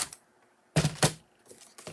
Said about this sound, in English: I am going to cut that right off